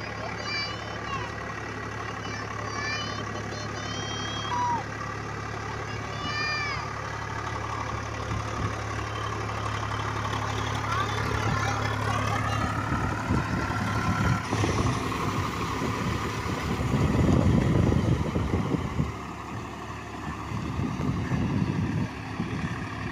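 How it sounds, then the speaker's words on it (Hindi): A tractor engine works in a flooded rice paddy field, a steady low idling rumble throughout with heavier churning and splashing swells later on, while someone talks over it and birds chirp faintly. "अभी मतलब ट्रैक्टर खेत में आ गई है"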